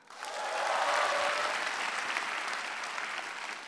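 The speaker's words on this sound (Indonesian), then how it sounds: "Tepuk tangan untuk empat besar." Audience at an Indonesian stand-up comedy show applauding the top four, a full burst of clapping that swells quickly, holds steady, then eases slightly with some crowd noise mixed in.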